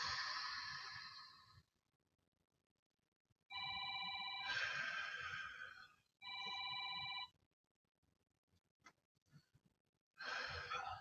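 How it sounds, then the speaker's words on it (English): A phone rings in bursts of bright electronic trills, three long rings with pauses and a fourth starting at the end, fairly close in an otherwise quiet room with faint breathing. "Sorry, I forgot to silence my phone this morning."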